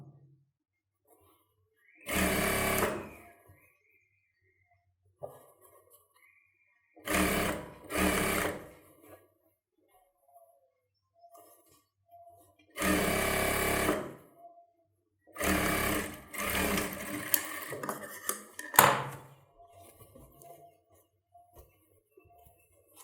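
A sewing machine stitches the inner seam of a silk pattu pavadai in several bursts of a few seconds each, with quiet pauses, small clinks and handling sounds between the runs.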